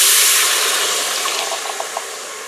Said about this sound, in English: Let's pour that in there immediately.